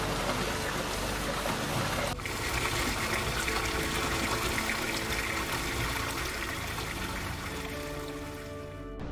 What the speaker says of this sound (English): A steamy river flows through the village.